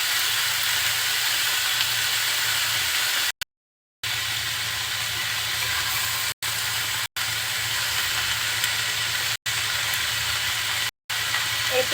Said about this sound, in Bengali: উল্টিয়ে পাল্টিয়ে ভেজে নিচ্ছি।